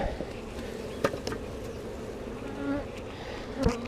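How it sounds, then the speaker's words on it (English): Agitated honeybees buzz steadily and close by during a hive inspection, a dense insect hum with a few sharper rises and brief knocks, and no voices. "These bees seem to be a little more temperamental than the bees I've had in the past."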